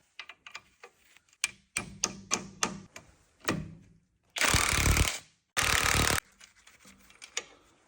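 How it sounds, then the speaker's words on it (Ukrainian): A rusted suspension bolt is hammered out during a front control arm replacement on a Renault Scenic: a run of sharp metallic strikes in quick succession, then two loud, harsh, sustained mechanical bursts, close by with no talk. "Бол трохи закис, тому вибиваємо."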